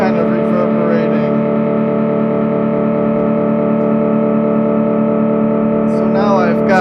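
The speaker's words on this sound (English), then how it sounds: "by turning the delay down on this echo setting, we get a really short, kind of like a strong reverb" A sustained electric guitar tone rings out with a short, dense reverb-like wash from a delay pedal's echo setting turned down, holding steady throughout.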